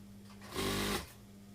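A sewing machine stitching cuff fabric for a Kasumedangan garment runs in one short burst of about half a second, a close mechanical whir rising out of a quiet room hum and stopping abruptly.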